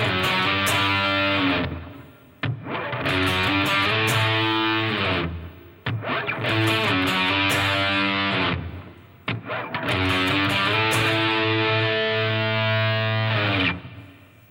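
Distorted electric guitar plays a song's intro riff, using octave shapes with a slide into A, in three loud sustained phrases separated by brief pauses, with no voice.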